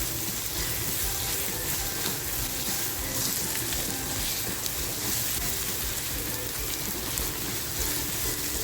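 Chopped green chillies drop into onions frying in a pan, and a dense, steady sizzle like heavy rain carries on close and even throughout with no talking.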